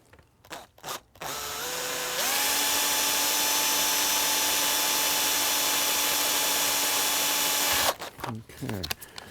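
A power drill drills a pilot hole, whirring steadily for several seconds at close range, its pitch stepping up once, with brief clatter and handling noise before and after.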